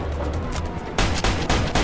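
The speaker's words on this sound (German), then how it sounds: "Oh, nee, daneben geschossen" Revolver gunshots from a .38 revolver in the video game Mafia 2, a couple of sharp loud blasts in the second half after a noisy stretch.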